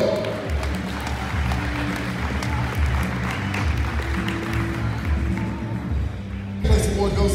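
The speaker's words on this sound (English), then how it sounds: "Another round of applause for Colburn Taekwondo." Spectators at a junior taekwondo tournament clap for a competing team, a sustained moderate applause in a large hall, with a brief louder burst near the end.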